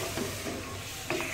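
Mutton coated in yogurt masala is stirred in a pot while the liquid cooks off for a dry namkeen gosht. The spoon scrapes and sizzles steadily and up close, with a couple of stronger strokes.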